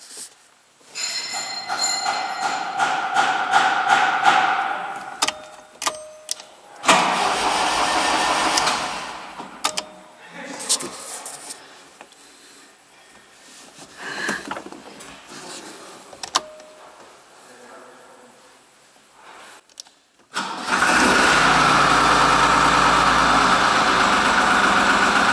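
Tool clicks and metallic tapping from work on an MKSM-800 mini loader give way to its engine cranking to life, then settling into a loud, steady, close idle.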